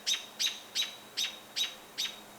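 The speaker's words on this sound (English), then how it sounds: "And that robin is very close to it screaming." A robin scolds near an owl in a tree by a steel sailboat, six sharp, loud, evenly spaced alarm chirps about every 0.4 seconds, close and clear over a quiet background.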